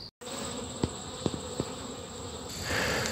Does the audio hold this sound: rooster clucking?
no